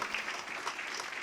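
Audience applause at a political event where an actress speaks about MK Stalin, a dense wash of clapping hands that holds steady and fairly loud through the whole short stretch, with no voices over it.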